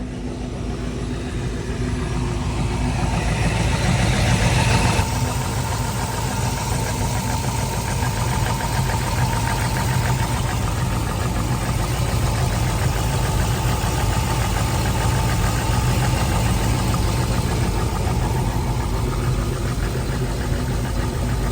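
A cold Corvette C5 Z06 with a blown motor idles with a steady low rumble and a faint rapid ticking knock running through it, with a brief change in tone near the five-second mark.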